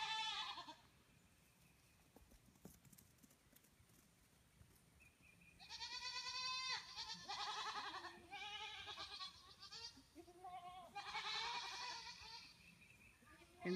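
After a quiet stretch, several goats bleat in a run of loud, wavering calls, close by, with short gaps between them.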